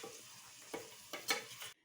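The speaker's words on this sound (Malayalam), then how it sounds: "അതിലേക്ക് ഞാൻ തേങ്ങ അരച്ച അരപ്പ് ചേർക്കുകയാണ്." Paste of ground roasted coconut sizzles quietly in a pan of sautéed onions as a spoon stirs it in a few scraping strokes, with no voices.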